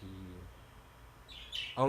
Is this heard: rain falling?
no